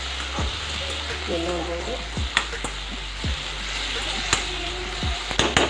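Vegetables for bhaji frying in oil with salt and turmeric, a steady close sizzle broken by clacking stirs of a spoon against the pan, with someone briefly talking.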